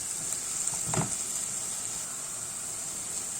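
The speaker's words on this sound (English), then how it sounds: "After a couple of minutes of just frying your potatoes and onions together" Steady, crackling sizzle of diced potato and chopped onion frying in a hot pan, with a soft scrape of stirring about a second in; no voices.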